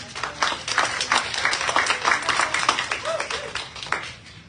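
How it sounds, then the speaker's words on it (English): An audience gives a short round of clapping, fairly close and uneven, lasting a few seconds before fading out. "Please give them a big round of applause."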